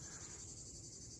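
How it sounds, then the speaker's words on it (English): Cicadas drone in a constant high-pitched buzz at Meteora, Greece, faint and distant, over low outdoor rumble with no voices. "So the sound you're hearing are the cicadas"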